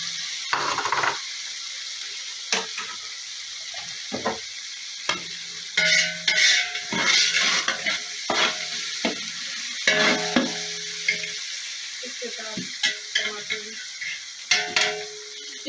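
Garlic, ginger and green chilies fry in a pan with a soft, steady sizzle. A spoon stirs and scrapes in irregular bursts, some louder and clattery, close to the listener.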